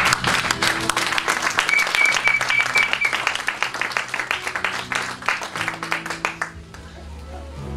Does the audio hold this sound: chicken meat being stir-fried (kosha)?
no